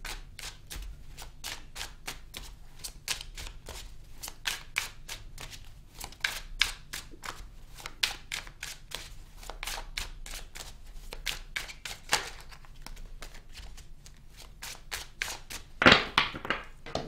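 Tarot cards shuffled by hand at close range, a quiet run of quick, rhythmic riffling flicks repeating steadily, ending with a sharper bridge-like rattle near the end.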